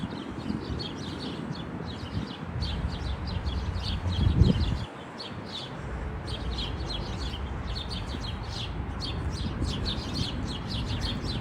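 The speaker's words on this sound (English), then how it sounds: "Chatty birds." Birds chirp busily outdoors along 86th Street in Brooklyn, their quick, high calls repeating over a steady rumble of city traffic. A brief low thump comes partway through, and no one speaks.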